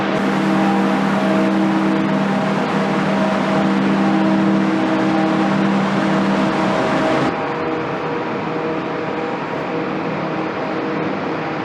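A car driving through downtown city streets gives a steady, fairly loud engine and road rumble with a constant hum. It runs continuously, easing slightly quieter about two-thirds of the way through, with no talking.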